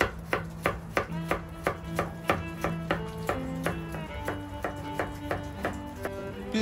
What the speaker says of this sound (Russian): Морковку я нарезаю тоже полуколечками.